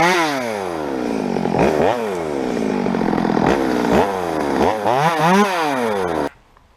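A power saw runs in a tree while cutting, its engine rising and falling in repeated revving surges that sound loud and close, then it cuts off abruptly near the end.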